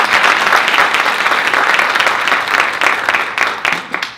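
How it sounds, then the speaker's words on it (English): An audience at an HR presentation breaks into a full round of applause, dense steady clapping from many hands that continues loudly throughout and thins slightly toward the end. "Let's give her a round of applause."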